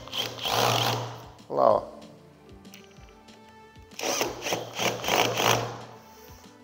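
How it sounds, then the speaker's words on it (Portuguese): Electric screwdriver tightening a screw while a desk is assembled, heard as short whirring bursts with clicks and handling noise. A person speaks briefly between the bursts. "Coloquei no trapézio, eu vou vir aqui apertar com a máquina"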